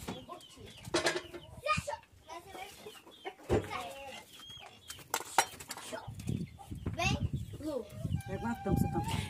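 Chickens cluck and squawk around a rural farm yard, several birds close by in irregular bursts, with people talking intermittently among them.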